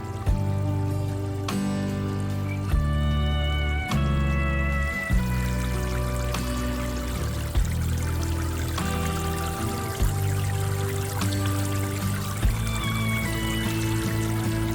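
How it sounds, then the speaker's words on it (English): Water from a DIY watering-can garden fountain runs and trickles steadily in the background under louder music. "It puts off that nice, relaxing sound of running water"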